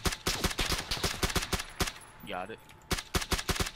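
Gunfire in PUBG crackles in rapid bursts of sharp shots, loud and close, with a short pause in the middle and a brief spoken remark.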